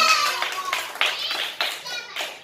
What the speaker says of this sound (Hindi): ताली बजाओ सब लोग सना के लिए